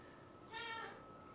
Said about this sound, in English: My cat Ogu has decided to join and is asking me to touc